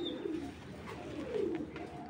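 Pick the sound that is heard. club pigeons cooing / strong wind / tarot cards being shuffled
club pigeons cooing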